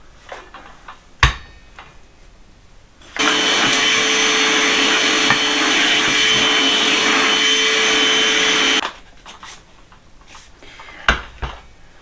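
A FLEX inline circular saw rips lengthways through wood, a loud steady whine running about six seconds between quieter handling knocks before and after.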